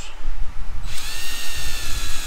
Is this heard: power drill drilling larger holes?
yes